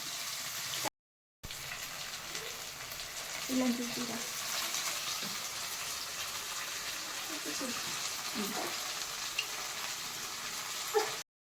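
Onions fry in a pan while being stirred, a steady close sizzle with occasional soft scrapes and clinks and a short break near the start.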